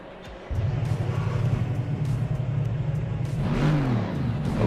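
Car engine in a driving video game, revving hard after a brief quiet start, a loud buzzing mid-pitched roar that rises in pitch near the end.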